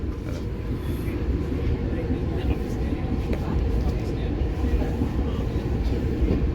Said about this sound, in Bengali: পরে কিন্তু ট্রেন আরাকুরাম জাংশন থেকে ছেড়ে দিল।